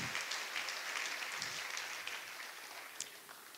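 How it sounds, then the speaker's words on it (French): Church congregation applauding, a steady dense patter of clapping that holds throughout at moderate distance, with no voices breaking through. "J'aimerais qu'on acclame le Seigneur"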